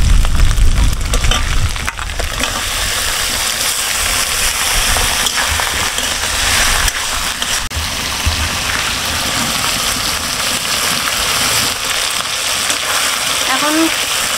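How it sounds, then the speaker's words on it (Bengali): Cut meat for haleem frying in a pot and being stirred, a dense, loud, continuous sizzle with occasional scraping knocks throughout. "এখন আমি হালিম রান্না করার জন্য কেটে রাখা মাংসটা দিয়ে দেব।"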